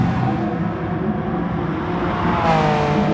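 A Honda NSX on super soft tires at full throttle on a race track, engine droning steadily inside the cabin, then rising in pitch as it revs up near the end, loud and continuous.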